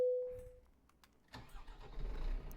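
A truck engine in Euro Truck Simulator 2 cranks over and catches after a short tone and a quiet pause, then settles into a low, steady rumble that grows slightly louder toward the end.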